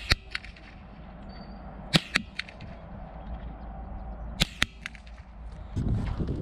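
Several sharp, cracking rifle shots from a .22 Savage fired at a target 100 yards away, spaced a few seconds apart in pairs over a steady outdoor background hum.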